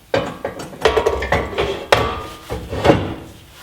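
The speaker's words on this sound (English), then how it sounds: "grab your bumper and slide it on" Steel rear bumper for a Jeep Cherokee XJ sliding onto its frame brackets: a run of close metallic knocks, scrapes and clunks, several sharp hits spaced irregularly across a few seconds with no talking.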